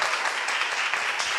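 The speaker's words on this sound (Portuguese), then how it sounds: "Mais uma salva de palmas para a nossa convidada" A lecture audience applauds a guest speaker at a nutrition physiology book launch, a steady wash of many hands clapping at moderate loudness that carries on without pause.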